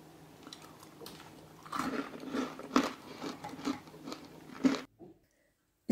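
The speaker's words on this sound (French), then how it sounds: "Je vous laisse écouter le croquant de ces biscuits." Homemade crunchy biscuits are bitten and chewed up close, a steady run of crisp, brittle crunches with no talking, ending in a sudden silence.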